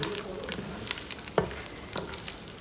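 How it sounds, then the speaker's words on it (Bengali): Nuts fry in a pan of oil alongside bay leaf, cinnamon, cardamom and raisins; a soft continuous sizzle carries scattered crackles and a few sharper pops, close up and with no talking. "তো আমি এখানে ভালো করে ভেজে নিচ্ছি।"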